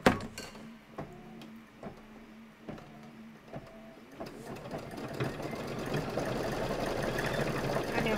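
A sewing machine winding a green bobbin during a sew-along: a few spaced clicks and taps, then the motor spins up into a steady whirring hum that continues to the end, close by.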